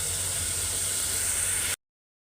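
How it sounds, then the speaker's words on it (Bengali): Steady loud hiss of potatoes frying in oil with ginger-garlic and chili paste, an even sizzle that runs unbroken for under two seconds and then cuts off abruptly into silence. "তো আলুগুলো কষাইতে দিয়ে দিছি"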